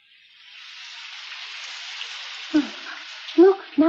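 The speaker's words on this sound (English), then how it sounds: "Look, now it's starting to rain." Cartoon rain sound effect as a shower begins to fall near a burnt-down home and chapel, a steady broadband patter building gradually, with short voice-like sounds breaking in near the end.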